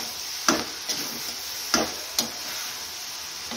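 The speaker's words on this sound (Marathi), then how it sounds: "तर याला मी परतून घेणार आहे." Half-cooked rice is stir-fried for fried rice in a pan, with four distinct scraping strokes of a spatula in an uneven rhythm over a soft, steady sizzle, close and without talking.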